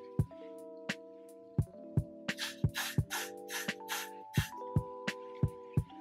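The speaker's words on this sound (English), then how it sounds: "so I'm gonna spray it" Several short hissing bursts of aerosol spray onto a synthetic lace front bob wig, over soft background music with a steady beat.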